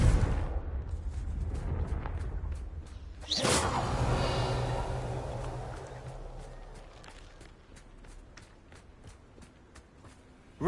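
Confringo fire spell in Hogwarts Legacy bursts into a sudden loud fiery blast, a roaring whoosh that slowly fades beneath light footsteps and ticking game sounds.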